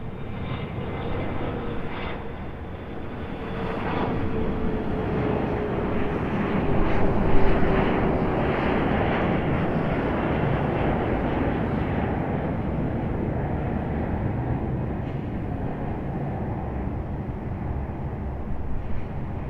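Jet aircraft at Raleigh Durham airport, a Delta CRJ and a UPS MD-11, making a broad, steady engine roar with a slowly falling whine, heard from a distance without talk.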